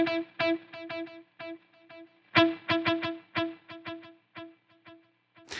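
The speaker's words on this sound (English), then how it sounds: "So what happens here if we play a note with the CrissCross delays?" Guitar note played through a CrissCross delay effect, one plucked tone followed by a rhythmic train of repeating echoes that fade out, then a second note whose echoes trail off the same way.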